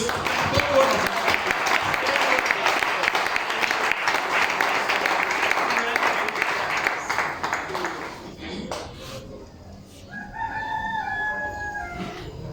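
Congregation at a Sunday church service clapping loudly and steadily for about eight seconds, then the applause stops abruptly, followed by faint voices and a few scattered sounds.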